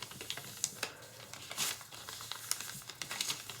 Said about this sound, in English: then a valley fold, another mountain fold, and another valley fold.